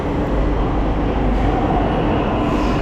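Steady rumbling of a moving Delhi metro train heard from inside, a continuous, fairly loud rolling noise with no distinct breaks.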